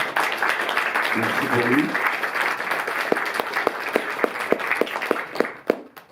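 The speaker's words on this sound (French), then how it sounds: "vous pouvez l'applaudir" Audience applause in a Paris cinema during a film presentation, a thick wash of clapping with a brief spoken voice over it early on, then thinning into scattered, sharper individual claps as it fades.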